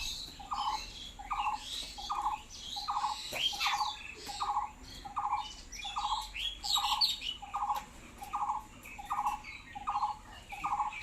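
Bulbul birds call while feeding, a regular series of short repeated chirps about once every two-thirds of a second, fairly close, over faint background noise.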